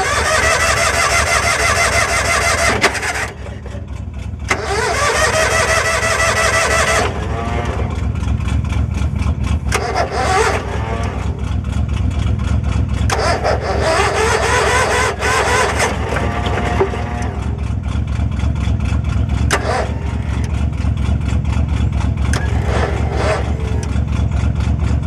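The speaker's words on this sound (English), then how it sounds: "I'll go back here and see if I can't get the generator to start." An old generator engine is cranked to start, with repeated loud bursts of mechanical whirring and chugging that cut in and out over a constant low rumble, and brief speech between attempts.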